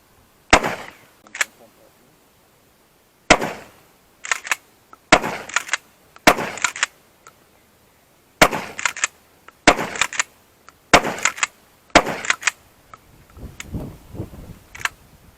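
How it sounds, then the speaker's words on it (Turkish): A Hatsan Escort Magnum Marine tactical 12-gauge pump shotgun loaded with 32-gram shot fires a string of sharp, loud reports. The bursts come irregularly, singly and in close pairs, with short mechanical clacks between them and brief quiet gaps. "Tüfeğimiz Hatsan Escort Magnum Marin taktikler tüfeğimiz."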